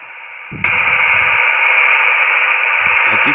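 Steady hiss of radio receiver noise from a noise bridge switches on abruptly and continues loudly, with a faint low rumble at the start and end.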